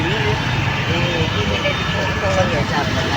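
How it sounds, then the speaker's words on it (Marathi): Dense road traffic rumbles continuously, with engines droning and vehicles crowding close by in a steady, loud roar, while someone talks over it. "बघू शकता तुम्ही खूप ट्रॅफिक लागली आपल्याला सुटून"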